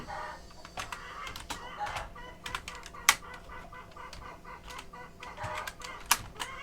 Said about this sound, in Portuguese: Começaram as galinhas na sua reunião diária.